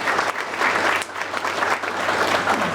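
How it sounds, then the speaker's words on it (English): Steady applause from a room full of people at a chamber of commerce breakfast meeting, close and even, many hands clapping without pause throughout. "Please, a round of applause for CPR by Phil LLC."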